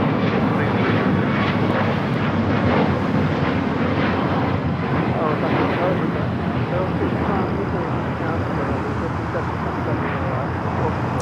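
An Alaska Airlines jet roars steadily at a large airport, a loud, broad, continuous engine rumble that holds for several seconds with a voice talking faintly underneath.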